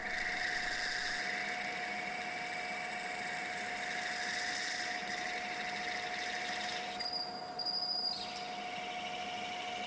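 A machine drill peck drilling a hole runs steadily with a constant whine and hum, its tone shifting briefly near the end as it bites into the material.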